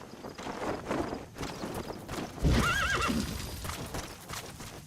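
A horse whinnies loudly in Metal Gear Solid V after being dropped by parachute, a rising and falling neigh in the middle over busy game ambience with hoof clatter and footsteps.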